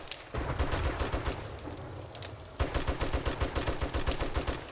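Rapid automatic gunfire from a gun in 7 Days to Die rattles loud and close in two sustained bursts, a brief lull separating the rhythmic volleys of shots.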